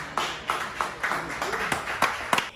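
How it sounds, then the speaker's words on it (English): An audience claps for a jazz trio in a hotel restaurant. The claps come as a handful of separate, moderately close hits, spaced unevenly under a narrator's voice. "They played and people clapped."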